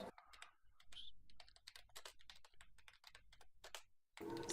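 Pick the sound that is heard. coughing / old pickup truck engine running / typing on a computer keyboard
typing on a computer keyboard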